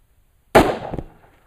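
A single sharp, loud gunshot from a rifle chambered in .30 T/C, fired from a shooting table, with a brief ringing decay after the blast.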